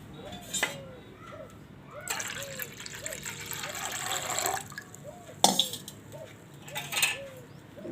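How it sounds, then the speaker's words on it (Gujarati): Water pours steadily into a container of bottle gourd for juice for a few seconds, with a few light clinks of a glass or utensil before and after. "હવે આપણે આમાં 1 ગ્લાસ જેટલું પાણી નાખશું"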